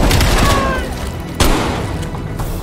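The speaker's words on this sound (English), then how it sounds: "Grenade out." A grenade detonates in Call of Duty: Cold War with a loud, close boom near the start, and a second heavy thud follows around midway, all set against dense game noise and a voice talking.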